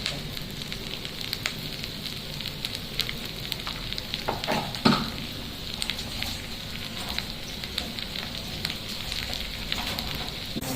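Turmeric, red chili and coriander powder frying in oil for a tadka, a continuous close sizzle with faint crackles and one brief louder burst near the middle.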